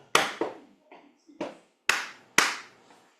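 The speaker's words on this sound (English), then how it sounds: "And just clap." Single hand claps mark a slow 12-bar blues practice rhythm, about six sharp, close claps at uneven spacing, interleaved with softer taps or steps.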